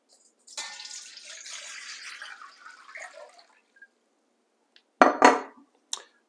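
Cold water, for a chicken brine, pours steadily into a big bowl for a few seconds, then goes quiet before a couple of close clunks of the bowl.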